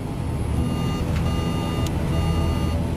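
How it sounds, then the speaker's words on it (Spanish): Steady electronic beeping repeats over a constant low aircraft engine drone, a low-fuel alarm, with a couple of faint clicks in between. "Tres horas después, suena una alarma."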